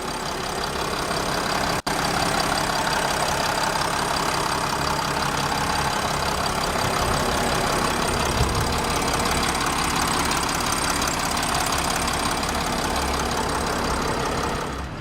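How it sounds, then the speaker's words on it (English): The 3-liter six-cylinder diesel in a 2010 Mercedes-Benz Sprinter custom limousine idles with a steady, dense drone that stays even and unbroken throughout. "It's got a 3-liter diesel 6-cylinder."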